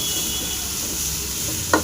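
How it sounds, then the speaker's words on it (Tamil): Steady hissing sizzle of tomatoes and onions frying in a pan, continuous and close, with a brief clink partway through. "நல்லா தக்காளி ஃப்ரையாகும்"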